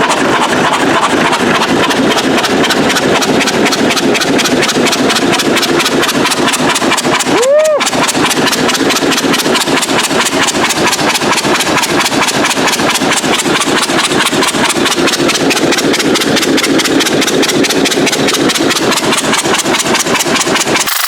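An old John Deere A tractor engine chugs loudly and steadily with a rapid, even beat throughout, with a short metallic clunk partway through as gears change.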